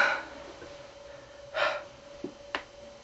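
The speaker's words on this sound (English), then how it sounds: "panting into the camera" A person breathes heavily after a fitness workout, with a few sharp, separate gasping breaths standing out against a quiet room with a faint steady hum, close to the microphone.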